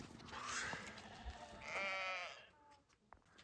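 Two quavering lamb bleats ring out close by, one after the other, followed by quieter farmyard background and a soft click.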